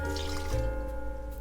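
Water poured into the dough bowl of a stand mixer while making sweet yeast buns, a short steady pour with a gurgle, close and fairly loud, with no talk.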